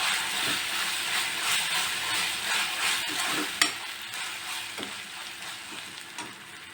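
Ginger garlic paste frying with softened onions in a hot pan for a chicken fry, a steady close sizzle and hiss with occasional scrapes and clicks of stirring, no voices.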